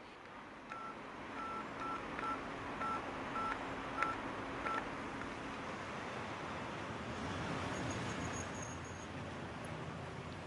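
Touch-tone telephone number being dialed, a run of evenly spaced beeps over a steady low background hum, fairly close and moderately loud, with no talking.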